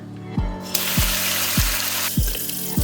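Cold tap water pours steadily from a kitchen faucet over frozen crabs being rinsed before trimming for Korean soy-marinated raw crab, a continuous close hiss with a few dull knocks of shellfish handling, no talk.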